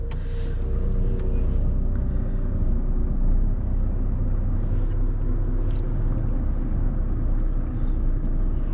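A truck hauling a trailer loaded with paper pulls away from a loading dock, giving a loud, steady diesel rumble with a low droning engine note that holds constant throughout, and no one speaks.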